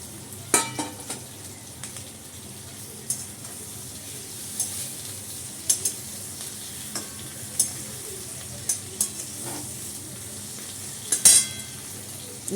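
Pre-fried chicken pieces go into a pan for chilli chicken, giving a soft, steady sizzle. Scattered light clinks and taps from a spoon against the pan are heard now and then.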